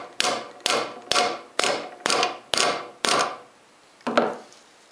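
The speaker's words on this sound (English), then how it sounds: "with the bevel facing into the mortise, I'm going to chop straight down" A chisel chops straight down into a wood mortise in seven evenly spaced, sharp mallet strikes, then a pause and one more strike, each a crisp close knock with a short ringing decay.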